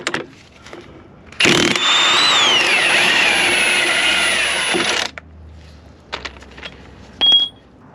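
A power tool zips off a car's front strut during a Scatpack front air ride suspension install, a loud whining burst of about three and a half seconds, followed by quieter clanks and short taps.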